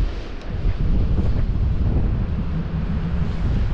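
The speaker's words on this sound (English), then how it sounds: "The wind is a little annoying." Wind blows hard across the microphone on a surf beach at Westgate on Sea during sea fishing for bass, a steady loud buffeting rumble with gusts and faint surf underneath, no voices.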